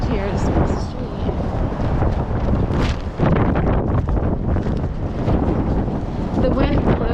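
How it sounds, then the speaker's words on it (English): Strong wind gusting down a main street in a cold, windy old city, roaring steadily across the microphone in loud, uneven buffeting with faint traffic-like rumble underneath. "The wind blows like west to east, and I guess the Main Street, it's really windy"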